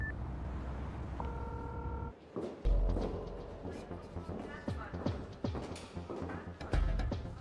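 A few steady electronic dial tones sound briefly near the start as a phone call is dialed, followed by bursts of busy, overlapping voices and clatter.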